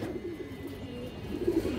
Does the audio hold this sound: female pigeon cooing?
yes